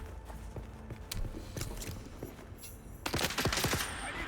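Gunfire in the video game Dune: Awakening, a fairly faint rattle of several quick shots that grows into a denser burst of rapid reports toward the end.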